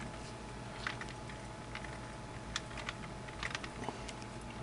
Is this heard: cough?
no